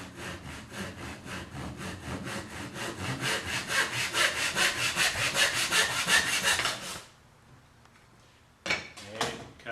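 A hand saw cuts timber for a pencil box in quick, regular back-and-forth strokes, loud and close, before stopping; a few faint knocks and handling sounds follow in the quiet.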